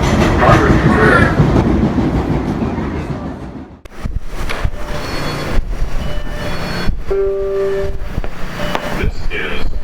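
An MBTA Red Line subway train runs on the tracks with a loud, continuous rumble and rattle. It briefly dips quieter, then brake squeals and tonal whines rise over the running noise.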